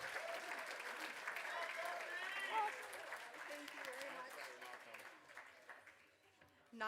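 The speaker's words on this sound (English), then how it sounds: "keep the applause going for Darcy Fredericks" Sustained applause from a gala fundraiser audience, steady and fairly dense, fading slightly toward the end with a brief voice mixed in.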